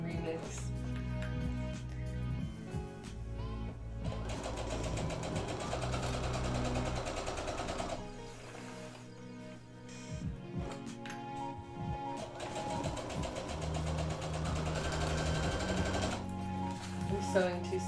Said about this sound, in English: I'm sewing too slowly. I should be pressing this pedal like I mean it.